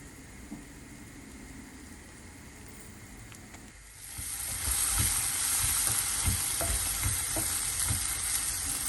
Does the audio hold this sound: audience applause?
no